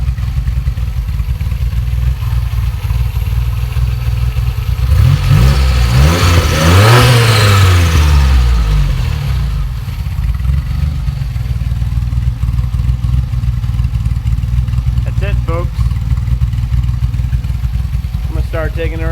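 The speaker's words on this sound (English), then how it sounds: "the last time the original engine was running in the car" A DeLorean's original PRV engine runs steadily close by, swelling in a revving burst midway before settling back to a rough, even idle.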